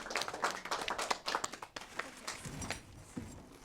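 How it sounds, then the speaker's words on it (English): Schoolchildren and adults clap for the winning elementary school at a book competition, a quiet, somewhat sparse burst of hand claps that thins out and fades over a few seconds, with faint voices at the end. "And a round of applause"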